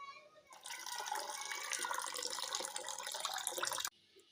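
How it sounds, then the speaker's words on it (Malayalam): Tamarind water poured into a ground pani puri mixture, a steady close splashing pour lasting a few seconds before stopping abruptly, with no voices. "ഞാൻ കുറച്ച് പുളിവെള്ളം കൂടി ഒഴിച്ച് ലൂസാക്കി എടുക്കണ്ടേ"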